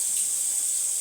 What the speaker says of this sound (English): I'm going to just rinse it under the cold tap.